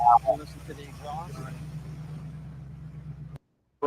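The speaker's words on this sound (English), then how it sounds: "Listen to the exhaust." A Batmobile replica car's engine idles with a steady, low exhaust rumble running under nearby conversation, then cuts off abruptly near the end.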